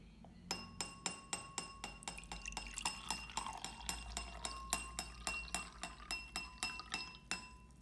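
A drinking glass partly filled with water, struck repeatedly to give a high, bright ringing tone; around twenty soft, evenly spaced clinks, each with a short shimmering decay, close and quiet.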